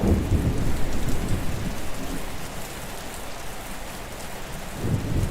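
Steady rainfall in the village-building game Patron, a dense, even hiss of falling rain with low rumbles swelling at the start and end, no voices.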